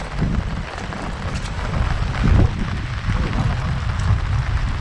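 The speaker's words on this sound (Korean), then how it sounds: "비가 오니까 세상이 다 조용해졌네." Heavy rain pouring down at Baekgok Reservoir in Jincheon, a dense, steady wash of close rainfall drumming on surfaces without a break.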